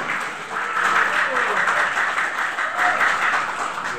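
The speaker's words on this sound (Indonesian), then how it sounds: "Tepuk tangan lagi." Audience applause at a school graduation ceremony, a steady wash of clapping from a crowd that holds for the whole stretch, with murmuring voices mixed underneath.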